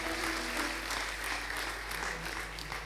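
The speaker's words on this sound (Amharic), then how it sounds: "አጨብጭቡ ለጌታ" A church congregation claps together in a dense, even burst of applause that stays steady throughout, heard alone with no voices over it.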